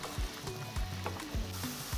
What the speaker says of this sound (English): We're gonna saute for the onions to soften up a little and mingle with the garlic.